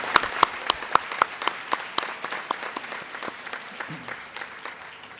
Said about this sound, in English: Let's give a warm round of applause to our President